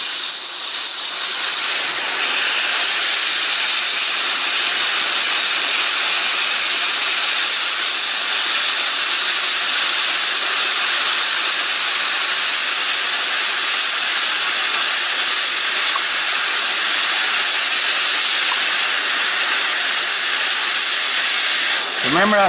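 Welding torch or welder hissing steadily as it melts and burns a weld into a vehicle bumper, a loud, continuous broadband roar and hiss that holds evenly throughout with no break.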